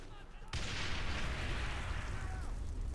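Grenade explosion in the video game Ghost Recon Advanced Warfighter 2, a sudden loud blast that hits after a quiet half second and then rolls on as a sustained rumbling roar, with faint game chatter in the background.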